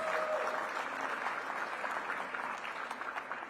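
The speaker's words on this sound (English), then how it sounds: "Give Simone another big round of applause." Steady audience applause at a mayoral luncheon, a dense, even patter of many hands clapping that carries on throughout at moderate distance.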